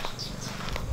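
A house cat purring steadily up close, a soft continuous low rumble that runs the whole second with faint higher noises above it.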